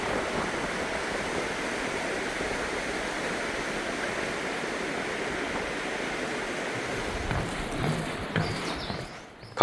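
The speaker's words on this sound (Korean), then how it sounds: "오히려 더 경쾌한 물소리를 자랑하는 것 같습니다." A mountain stream in a Seoraksan valley rushes in a steady, full broadband flow close by, continuous throughout before dipping slightly at the very end.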